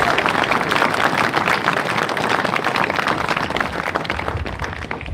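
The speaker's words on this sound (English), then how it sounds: "Round of applause for these local mentors." Audience at a 122nd anniversary event for the Wright Brothers' first flights giving a sustained round of applause, dense and even crowd clapping throughout, fairly loud and without talk.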